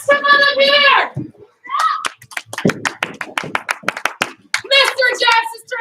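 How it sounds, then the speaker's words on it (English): Children in a classroom clap, a couple of short bursts of quick sharp claps close by, between stretches of an adult speaking. "Give him 1 clap. Give him 2 claps."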